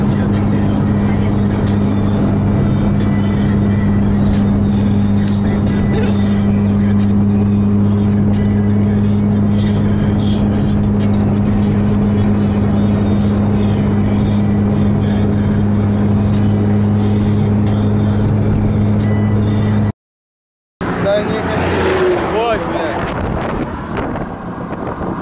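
Loud, steady engine and exhaust drone from a car driving on a long road trip to the sea, with heavy wind buffeting throughout and a brief dropout near the end before the roar resumes.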